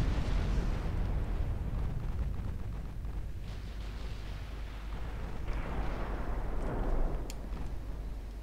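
Secondary naval guns blazing from the warship Congo in Ultimate Admiral, a constant roar of overlapping muffled gunfire and blasts, dense and rumbling throughout with slight swells near the end.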